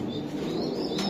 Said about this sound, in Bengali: আপনার লফটে বর্তমানে কতগুলা কবুতর আছে?